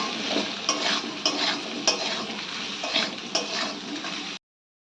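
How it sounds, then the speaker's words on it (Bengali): Taro root pieces fry in a pan with salt and turmeric, a close, continuous sizzle broken by regular stirring scrapes and spatula taps, ending abruptly in silence. "আমরা একটু হালকা করে গাঁটিগুলো ভেজে নেব"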